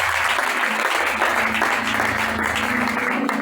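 Congregation applauding together during a church worship service, a steady, dense wash of clapping that runs throughout, with faint voices mixed in underneath.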